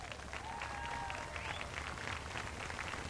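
Crowd at a New Smyrna race night applauding the drivers as they climb out of their cars, a steady roar of clapping with a faint whistle-like tone early on.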